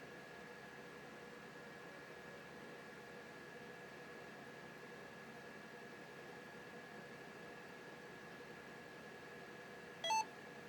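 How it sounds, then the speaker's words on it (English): A 1990s Compaq computer gives a single short beep after its PCMCIA utility installs. The beep comes near the end over a faint steady machine hum. "The computer's supposed to beep when the PCMCIA utility is correctly installed"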